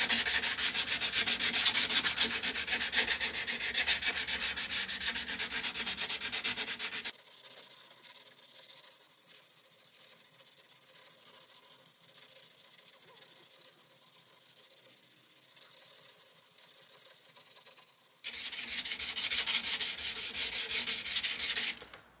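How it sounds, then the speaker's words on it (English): Sandpaper rubbing steadily along the flat pin area of a 5160 steel chopper knife handle, loud continuous scraping that drops to a quieter, softer rub in the middle before returning at full strength, with no talking. "we're going to start off by sanding the flat area where the pins are"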